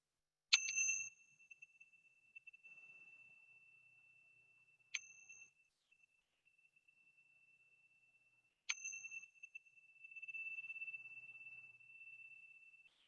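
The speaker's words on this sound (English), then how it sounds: "I'm going to ring the bells to finish." Meditation bells rung three times to end a session, each strike a bright clear ping that rings on in a long sustained tone, spaced several seconds apart in an otherwise quiet room.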